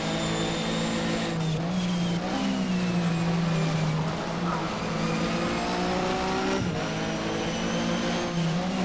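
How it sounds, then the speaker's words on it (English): Porsche Super Cup race cars in the Race07 video game at Brands Hatch, engines whining and droning continuously as they rev up and down through gear changes, loud and close, with a voice talking over them. "Oh, car's going around. Don't hit him. Excellent. Another car passed."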